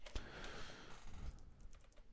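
A computer keyboard clatters faintly as someone types a search query during a game design class, a soft run of quick key taps under room noise.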